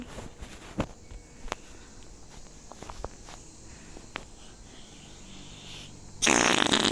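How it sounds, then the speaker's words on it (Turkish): Fart sound effects in a Roblox video game: scattered soft clicks and short raspy bursts lead up to a sudden loud, sustained blast at the very end, with no speech. "osuran şuradaki çocuk var işte osurup duruyor ya"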